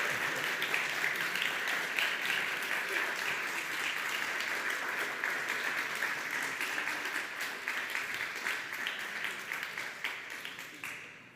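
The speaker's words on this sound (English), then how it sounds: "a big applause for Codify" Audience applause rings out for the Codify team at an AI startup demo day, a steady wash of many hands clapping that thins slightly and tapers toward the close.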